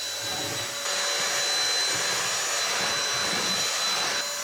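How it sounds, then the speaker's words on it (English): A Hoover vacuum cleaner running from an ALLPOWERS R600 portable power station, a steady loud motor whine and airy roar that holds continuously from start to finish at close range. "One thing I've got to test this on, Hoover. Let's see if it works. It works!"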